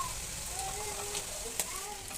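Noodles being added to a pan of fried potatoes and masala, with a steady background sizzle and a single brief clink near the end.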